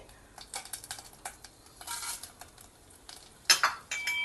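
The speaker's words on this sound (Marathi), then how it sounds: "सो शेवया छान साजूक तुपात, हे घरी काढलेलं तूप आहे मी, त्यात मी परतवून घेते आहे." Vermicelli is stirred and roasted in homemade ghee in a pan: a steady soft sizzle under repeated scraping strokes, with a louder metallic clink near the end.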